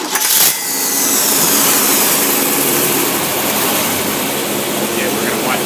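An engine with a Holley 390 carburetor runs loud and close, a broad steady roar that starts after a short burst and holds for several seconds.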